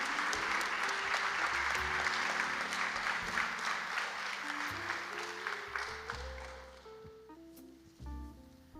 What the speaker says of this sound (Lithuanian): Jūsų aplodismentai, ačiū dar kartą.